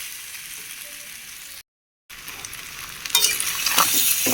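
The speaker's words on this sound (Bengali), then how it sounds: "মাংসটা কষিয়ে নেব" Mutton and fried potatoes sauté in a pan, giving a soft steady sizzle that stops briefly, then returns louder with scraping stirs building toward the end.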